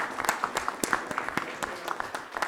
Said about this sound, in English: So I think we should applaud them rather than the other way.